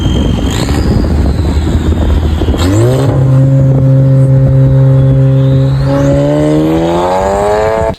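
A loud, close tuned turbo car engine idles roughly, then revs up with a rising whine and a turbo whistle, holding a high pitch before climbing again.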